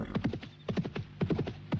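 A horse's hooves clip-clop in quick repeated bursts of steps, with whinny-like tones, close and fairly loud on a Chandni Chowk street, with no talk over it.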